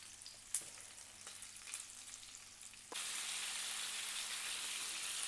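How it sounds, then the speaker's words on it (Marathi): Pomfret fish pan-frying on one side over a medium flame, a faint crackle that swells abruptly into a loud, steady hiss of sizzling oil, close and without talking. "आणि इथे छान अशा आपल्याला भाजून घ्यायचे आहे एक साईडून।"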